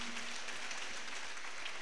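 An audience at a Christian fellowship conference applauds to honor a professor being introduced: a steady, soft wash of many hands clapping at a distance, continuous and unbroken for the whole stretch.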